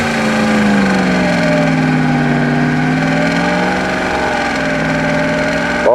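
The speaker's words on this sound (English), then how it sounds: "300 horsepower engine." A 300 horsepower off-road vehicle engine runs close and loud, a steady rumbling drone whose pitch drifts slightly up and down, with a brief change near the end.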